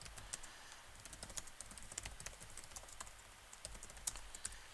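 Steady rapid typing on a computer keyboard while writing code, a dense run of close, crisp key clicks with no talking.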